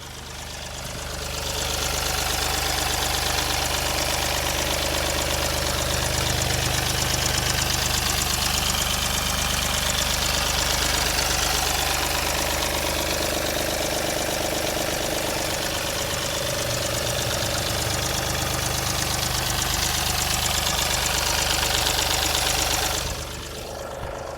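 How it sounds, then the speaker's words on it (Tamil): A Mahindra car engine idles in good condition with the microphone held close: a steady, even rumble and mechanical clatter that fades in and holds for over twenty seconds with no talking. "இப்போ இந்த வண்டியோட இன்ஜின் சவுண்ட் எப்படி இருக்குன்றதை நான் மைக்கை பக்கத்தில் வச்சு காட்டுறேன்."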